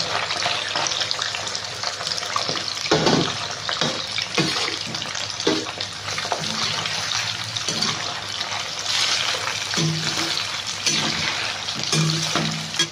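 Chicken fries in a little oil, giving a continuous close sizzle with scattered stirring clatters and scrapes across the whole stretch.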